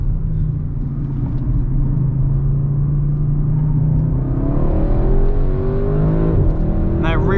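A 2021 Audi RS6 Avant accelerates hard on a racetrack, its engine note rising steadily through the rev range, loud and close from inside the cabin, with a driver talking over it.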